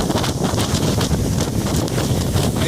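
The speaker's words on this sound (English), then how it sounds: "It's absolutely blowing here." Strong wind roars continuously across coastal cliffs in Malta, a loud, close rush of buffeting air and microphone wind noise with no break.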